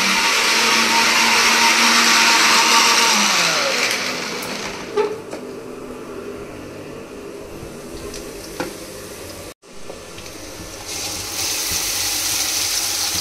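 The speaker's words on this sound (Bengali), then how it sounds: "ওর মধ্যে টমেটো আদা রসুন আর 1/2 চামচ টক দই দিয়ে ব্যাটারটা মিক্সিতে ঘুরে" A kitchen mixer grinder blending tomato, ginger, garlic and curd into a batter, a loud steady whirring whine that winds down partway, pauses with a clunk, then starts up again.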